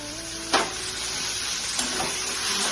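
Prawns drop into a hot pan with ginger-garlic paste for a Bengali poppy-seed prawn dish, giving a sharp burst of sizzle that settles into a steady, close frying hiss with a second small flare later.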